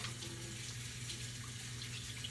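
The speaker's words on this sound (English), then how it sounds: "let me wash my hands again." A kitchen sink tap runs steadily while hands are washed, a soft continuous rush of water over a low background hum.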